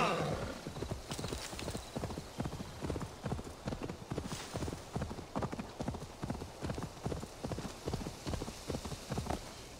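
A horse gallops in the video game Assassin's Creed Valhalla, its hooves making a steady rhythmic clip-clop throughout, with a whinny near the start and someone talking over it.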